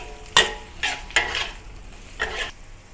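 Shiitake mushrooms stir-fried in a pan, four distinct scraping tosses of a spatula over a low sizzle, close and clear, with no talking.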